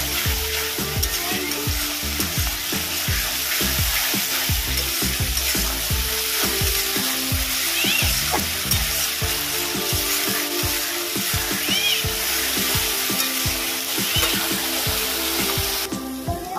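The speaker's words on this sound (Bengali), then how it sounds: "এবার দেব পেঁয়াজ বাটা। এটাও একটু খানিকক্ষণ ভেজে নেব।" Onion paste frying and sizzling steadily in a hot pan, with frequent stirring scrapes throughout while mango-green-chilli chicken is being cooked; loud, close and continuous with no talking.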